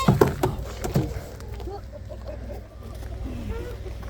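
Chickens being loaded up for butchering cluck in short, scattered calls over rustling and thumps, with faint background noise and no clear talk.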